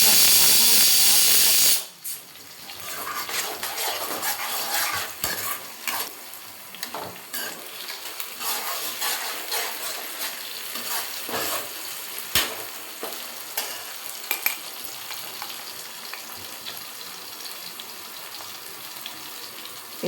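Spices including cinnamon sizzle and fry steadily in hot oil for a home-cooked vegetable biryani, with a sharp initial burst settling into continuous crackling and occasional stirring clatter.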